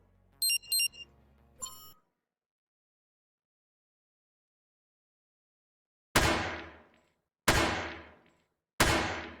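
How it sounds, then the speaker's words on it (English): Three short splat impacts sound in a video game as the player is shot. They come at an even pace after a brief electronic chime and a long silence, each loud and decaying quickly, with no talking. "You hear the little splat sound when you get shot."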